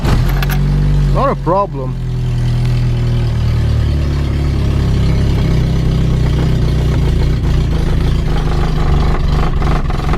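A 1984 Opel Corsa A sedan fires up from cold at about three degrees Celsius, with a brief cranking whine, then settles into a loud, uneven rough idle. A voice speaks briefly over it.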